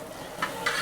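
Spices sautéing in a pan as the base for a catering-style beef roast, a steady soft sizzle with two brief stirring scrapes partway through, close and moderately quiet.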